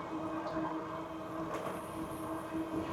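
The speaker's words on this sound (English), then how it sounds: "The train over there." A train rumbles along in the distance near warehouses and industry on a recreational loop, a steady low mechanical drone with faint rail noise, heard alone with no talk.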